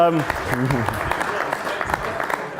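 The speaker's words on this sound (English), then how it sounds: "just quickly, a round of applause for Brendan as well." Audience applause at a presentation, a busy wash of clapping heard under and after a speaker's voice that trails off at the start.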